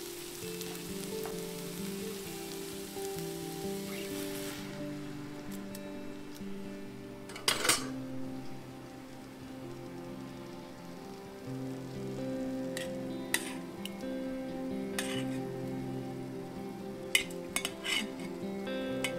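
Tomato puree poured into a pot of cooked onions and garlic, with a steady sizzle and bubbling under a low hum, then scattered clinks of a spoon against the pot.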